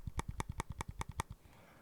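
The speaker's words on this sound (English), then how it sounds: "this has rubber dome switches on the controller. So I'm going to press this a few times so you can hear it." Rubber dome buttons on an Xbox Elite Series 2 controller are pressed about seven times in quick, even succession, each a soft, close, muffled click.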